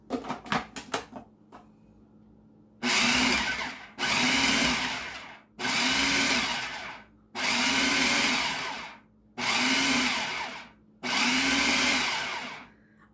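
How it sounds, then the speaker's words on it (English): A food processor pulses canola oil pie crust dough in six loud bursts of a couple of seconds each, the motor whirring up and cutting off with short silent gaps between, after a few quick clacks at the start. "we're going to pulse it again."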